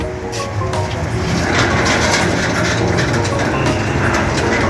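A heavy sliding gate driven by a Norton 600 kg motor, pushed by hand with the brake released, giving a steady loud rolling rumble and rattle close by.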